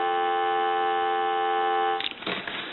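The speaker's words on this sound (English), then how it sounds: "Give you some dial tone." A steady continuous payphone dial tone hums for about two seconds, then breaks off into crackling handset noise.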